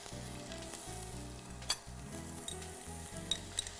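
Onions frying in a pan give a steady, close sizzle with a few faint clinks of a utensil stirring through it, no voices present.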